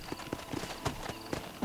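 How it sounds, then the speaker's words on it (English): Horse hooves clip-clopping at a steady walking rhythm in the Western video game Red Dead Redemption, faint and fairly close, with no talking. "So, why did Jeb give this lady the horse, exactly"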